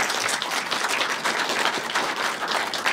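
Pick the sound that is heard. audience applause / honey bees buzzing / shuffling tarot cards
audience applause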